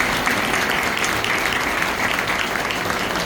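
A church congregation at Christmas worship claps steadily and enthusiastically, continuous dense applause from a large group throughout.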